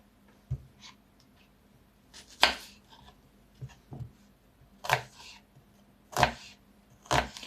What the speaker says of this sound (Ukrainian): Розпочинаю з того, що спочатку для пасарування нарізаю морквочку і цибульку